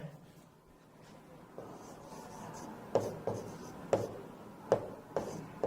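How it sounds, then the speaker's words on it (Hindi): A marker squeaks and taps across a whiteboard in short, separate strokes, close and clear, with quiet pauses between them. "चलिए अब लिखते हैं"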